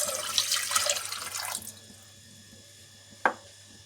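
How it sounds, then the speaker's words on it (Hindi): Water pours steadily from a tap or vessel into a pot on the stove for about a second and a half, then stops, followed by one sharp drip or clink in the quiet. "ये मैंने चूल्हा ऑन कर लिया। अब इसमें ये मैं 3 कप पानी ऐड कर लूँ"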